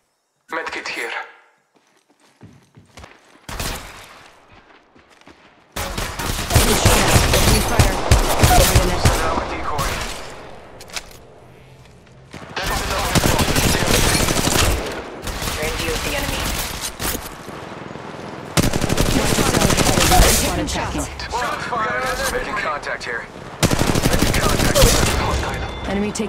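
Gunfire in the mobile battle royale Apex Legends Mobile, loud bursts of rapid automatic shots arriving in several separated volleys with quieter gaps between them.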